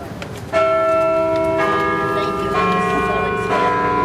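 Church bells ring loudly and close, with several clear, sustained strikes about a second apart, each new toll layering over the lingering hum of the previous ones.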